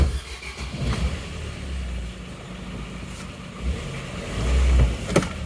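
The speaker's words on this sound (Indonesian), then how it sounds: "Yuk kita coba hidupnya bagaimana untuk mobil R3 diesel ini" A Suzuki Ertiga with a common-rail diesel engine cranks and starts, then settles into a steady low diesel rumble at close range, with a few brief knocks and clicks over the running engine.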